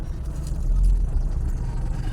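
Car engine running steadily while being driven, a low continuous rumble with road noise, moderately loud and without talk.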